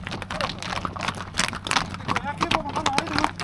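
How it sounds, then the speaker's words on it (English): Horses moving off together outdoors in Kazakhstan, hooves clip-clopping in a quick irregular patter close by, mixed with people talking and background commotion. "Now we're gonna ride some horses."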